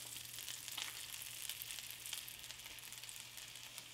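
A grilled cheese roll-up sizzling in butter in a pan, a steady close crackle of frying with small pops scattered through it and no talking.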